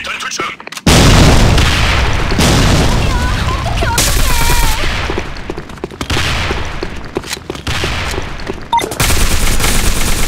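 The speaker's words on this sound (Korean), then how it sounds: "수류탄 투척." Grenade blasts and gunfire in the online shooter Sudden Attack, loud booming bursts and rapid shots that fill the clip with dense, continuous noise.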